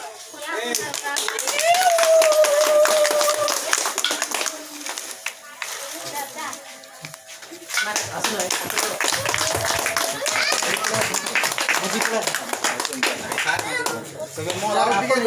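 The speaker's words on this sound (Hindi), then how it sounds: "ताली मारो" A crowd of people at a primary school's 50th-anniversary jubilee claps hands, a dense, fairly loud patter of applause mixed with children's voices and chatter that swells, briefly dips, then continues.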